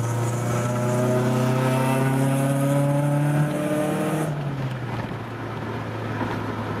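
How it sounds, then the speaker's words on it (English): A Nissan Gazelle S12 engine revs up through rising harmonic tones, holds a loud droning exhaust note, then drops away into rumbling idle. "that exhaust, it sounds alright once it gets on song"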